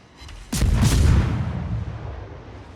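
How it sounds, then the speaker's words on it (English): Warship guns from the naval game Gallant firing blind into a smokescreen: a sudden heavy boom erupts, followed by a second blast close behind, then a long rumbling tail that fades slowly with no talk. "Doing some blind firing."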